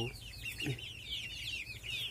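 Chickens on a chicken farm cluck in quick, fairly quiet repeated calls, several birds overlapping in a continuous chatter over low background noise.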